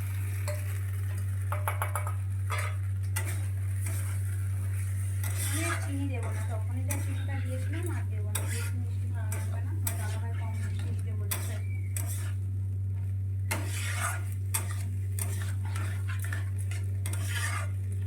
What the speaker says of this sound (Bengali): সব রকমের সস দিয়ে আমি ভালো করে মিক্স করে নিয়েছি।